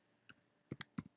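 A few quiet clicks of typing on a computer keyboard, about four or five light keystrokes in quick bursts, close and soft, with no talk.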